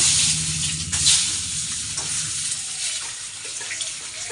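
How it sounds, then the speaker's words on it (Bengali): Peeled boiled eggs frying in hot oil with turmeric in a kadai, a loud, dense hiss and sizzle that runs steadily throughout with slight swells. "ডিমগুলো এবারে ভেজে নেবো"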